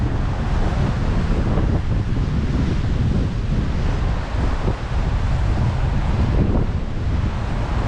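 Ocean waves at high tide wash continuously along the shore at Cape D'Aguilar, a loud, steady surf roar mixed with gusty wind buffeting the microphone throughout.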